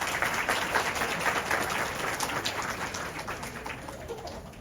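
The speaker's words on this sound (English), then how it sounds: "And first giving a round of applause for all of our guests and welcoming them all together." Audience applause welcoming guests at a Diwali celebration in a Swaminarayan temple hall, steady dense clapping that fades slightly toward the end, with no talk over it.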